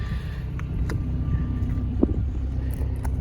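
A 1990s Mazda Miata sports car driving on the road gives a steady low engine and road rumble from inside the cabin, with a light knock or bump near the middle.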